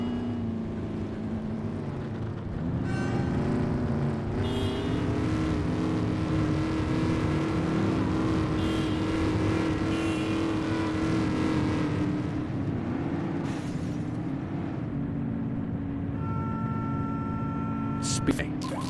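A speeding car drives past in the police video game The Precinct, its engine droning steadily and loudly for several seconds before fading, while a voice talks over it.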